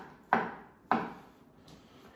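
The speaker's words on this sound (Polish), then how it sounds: "Zaczniemy od pokrojenia bananów." Two sharp knife chops land on a cutting board about half a second apart, cutting bananas, with a lighter scrape after them and quiet room hush in between.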